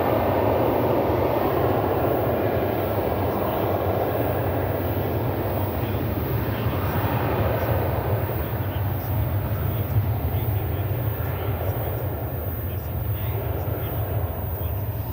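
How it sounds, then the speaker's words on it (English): A plane takes off from runway 18 Left at DFW Airport, its engines a loud, steady, broad roar that holds across the whole stretch without breaks. "You were listening to a plane taking off from 18 left."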